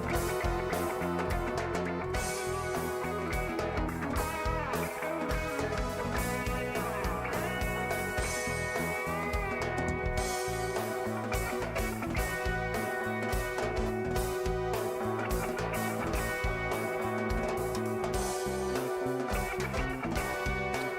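An unmastered metal instrumental plays continuously, with dense distorted guitars, a driving bassline and pounding drums holding a steady loud wall of sound throughout.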